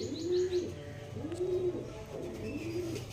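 Pigeons coo in a repeated rolling rhythm, three clear rising-and-falling calls spaced about a second apart, close by and moderately soft, with faint chirps and background noise.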